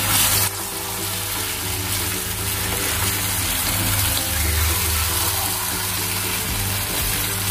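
Spice paste with a splash of water added to a pan of butter for paneer butter masala, hissing in a loud, steady sizzle that starts abruptly and keeps up with faint stirring scrapes throughout.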